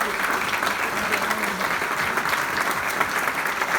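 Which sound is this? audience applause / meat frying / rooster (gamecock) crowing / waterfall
audience applause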